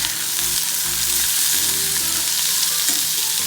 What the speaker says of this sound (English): We'll start sauteing it now.